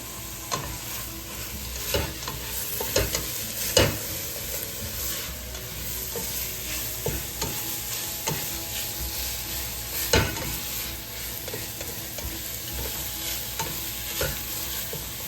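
A pot of couscous paella soup sizzles and bubbles as it comes back to a boil, a steady hiss broken by irregular sharp taps and stirring knocks. It sounds close, with no voices.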